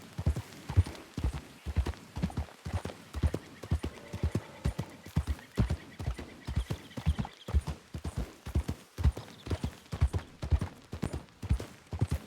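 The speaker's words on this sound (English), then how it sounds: "I'd never pushed my horse that hard before." Rhythmic hoofbeats of a horse galloping in Red Dead Redemption 2, steady and close, continuing without pause and without any voices.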